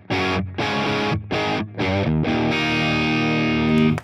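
An electric guitar through an AmpliTube 5 Orange amp model with a dry 4x10 cabinet plays heavily distorted chords, a few short choppy stabs with gaps, then a longer sustained ringing chord.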